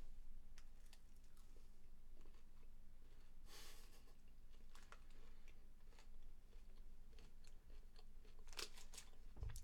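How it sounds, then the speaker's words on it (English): A person chews food while eating dinner at a computer, steady soft crunching and mouth clicks close to the microphone, faint and continuous with no talk. "So I'll mute my mic so you don't got to hear me chewing."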